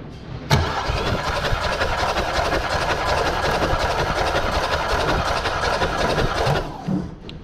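A Volkswagen Passat B3 engine (1988–1993 model range) cranks and catches with a sharp onset, then runs steadily and loudly for about six seconds before cutting off, with no voices over it.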